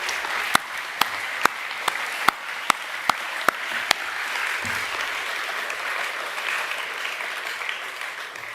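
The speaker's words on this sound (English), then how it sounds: "Can we give everyone one last round of applause," Steady applause from a junior school academic assembly audience fills the hall, with a series of sharp, evenly spaced clicks over the first few seconds before the clapping continues alone.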